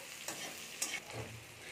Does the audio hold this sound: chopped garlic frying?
yes